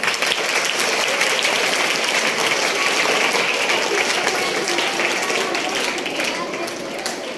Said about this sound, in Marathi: त्या मुलीसाठी एकदा आपल्या मैत्रिणीसाठी आपण टाळ्या वाजवूया.